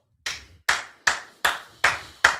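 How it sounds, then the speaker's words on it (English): Six sharp hand claps in a steady, evenly spaced rhythm, close and loud, from a person watching a Georgia vs. Alabama SEC Championship football game, with no talking over them. "I'm clapping on that overthrow"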